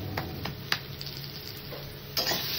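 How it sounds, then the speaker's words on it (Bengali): Food with salt being stirred in a frying pan, a soft scraping stir with faint sizzle, a few sharp utensil taps against the pan, close and fairly quiet. "একটু নেড়ে দিতে হবে।"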